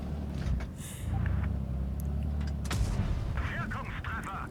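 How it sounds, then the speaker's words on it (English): Tank cannon fire in a tank combat video game: a deep boom over a steady low engine rumble, with loud, dense vehicle noise throughout the short stretch. "A masterful shot right into the hatch there."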